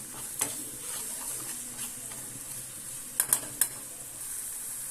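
Tomato and pepper paste sizzles and roasts in a pot with garlic, a soft steady frying hiss with a few sharp clinks of a spoon stirring against the pot.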